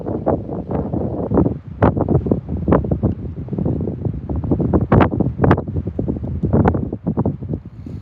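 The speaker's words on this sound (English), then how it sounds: "That wind is nasty today." Strong wind at Prineville Reservoir gusts across the microphone in uneven loud bursts, a rough rumbling roar that rises and falls throughout.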